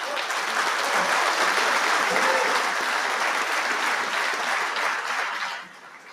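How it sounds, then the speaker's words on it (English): Sustained applause from a dinner audience at a Marine Corps awards ceremony for a captain, dense and even, then dropping off sharply near the end. "Ladies and gentlemen, a round of applause for Captain Rothfield."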